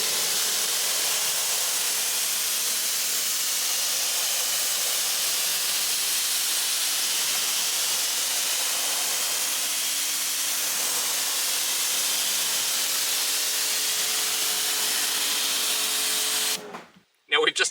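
Car wheels are rinsed with a steady, loud hiss of water spray from an electric pressure washer, continuous for most of the clip before cutting off abruptly near the end.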